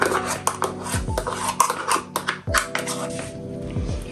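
Spoon clinking and scraping against a bowl while pistachio sauce is folded into homemade no-churn ice cream, a close, irregular run of knocks and scrapes with brief pauses, no voices.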